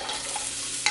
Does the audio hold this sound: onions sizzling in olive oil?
yes